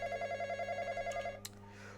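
Telephone ringing in the Roblox video game, a fast warbling electronic ring repeating steadily for over a second before stopping with a click, quiet over a low background hum.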